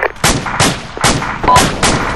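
Gunfire in the ARMA 2 military video game: a rapid series of about seven sharp, loud shots fired in quick succession, close and distinct, with no voices over them.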